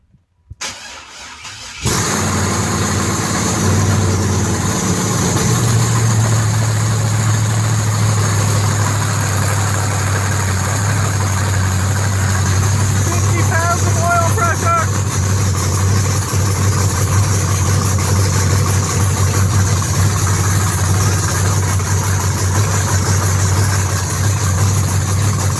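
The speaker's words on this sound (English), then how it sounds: "So you want to hear it run and idle?" Chevy Caprice with a swapped LS V8 starts up and settles into a loud, rough, rumbling idle. The steady deep drone carries on close and alone, with no talking.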